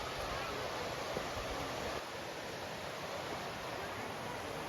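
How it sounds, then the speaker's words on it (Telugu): Ananthagiri waterfall near Araku pours in a steady, loud broadband rush of falling water, a continuous roar without pauses. "చూడండి, ఆ వాటర్ సౌండ్ ఎంత అందంగా ఉందో."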